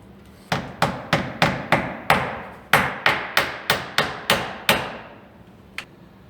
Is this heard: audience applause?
no